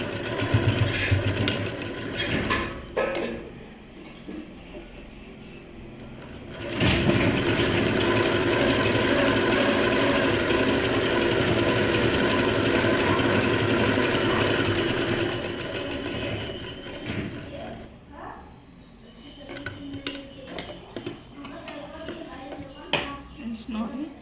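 A sewing machine stitches a plain blouse, its motor whirring in short runs, then one long steady burst of rapid stitching before slowing into brief, stop-start runs.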